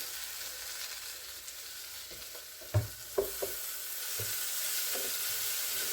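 Onions and garlic frying together in a pan while hummus is prepared, a steady soft sizzle running throughout with a few sharp clicks and clatters of stirring utensils near the middle.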